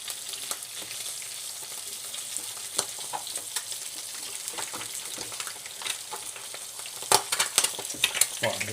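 Eggs frying in a pan with a steady, close crackling sizzle throughout, punctuated by brief scraping and tapping sounds, with a louder burst of spitting near the end; no talking.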